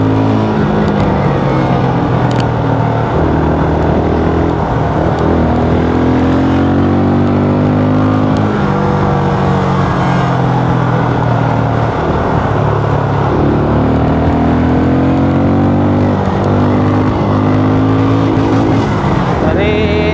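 A Benelli Imperiale 400 motorcycle engine revs loudly and climbs in pitch through the gears toward 100 km/h, straining upward again and again against a fairly low rev limiter, with wind noise and a voice now and then.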